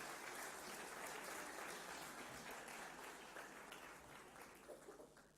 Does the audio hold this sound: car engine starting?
no